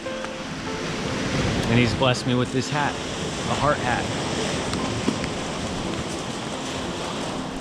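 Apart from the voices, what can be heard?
storm and rain at the Sea of Galilee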